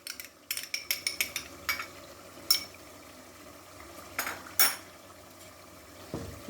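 A spoon clinks and scrapes against a karahi as yogurt is stirred into chicken karahi: a quick run of light metallic taps, then scattered louder knocks, close by and alone.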